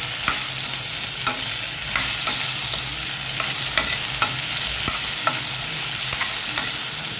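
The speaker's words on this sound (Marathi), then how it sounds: "छान अशी भेंडी आपण परतून घ्यायची या तेलामध्ये" Okra stir-fried in hot oil for a fasting-day dish, a loud continuous sizzle punctuated by regular light scrapes and taps of a spatula in the pan.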